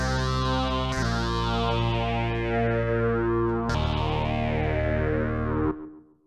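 Future Impact V3 bass-triggered synth running a factory preset: thick, distorted, chorus-washed tones with rich harmonics, two sustained notes, the second entering near the middle, then a quick fade to silence.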